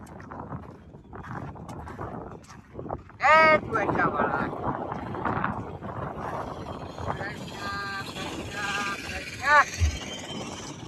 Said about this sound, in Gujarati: પવન આવ્યા કરે છે.